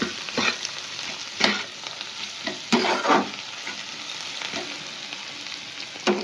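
Food fries with turmeric for chicken pasta in a constant sizzle as a utensil stirs it, giving scattered scraping bursts against the pan.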